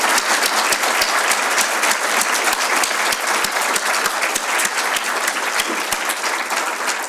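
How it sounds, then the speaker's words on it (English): An audience gives a big round of applause at a professional gathering, loud and sustained clapping from many people, dense and steady with a few sharper individual claps standing out. "I think they all deserve a big round of applause."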